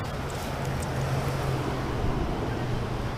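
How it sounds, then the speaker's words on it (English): Strong wind blowing outdoors at a fishing spot, a constant loud rumbling roar of wind buffeting the microphone, steady throughout with no speech. "Super windy out there."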